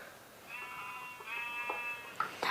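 A sheep in the Minecraft video game bleats in a drawn-out, wavering cry lasting over a second, then a couple of short, sharper clicks or hits follow near the end. The sound is moderately quiet, with no talking.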